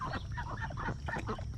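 Several ducks honking and quacking in quick, overlapping calls by a pond, faint and somewhat distant.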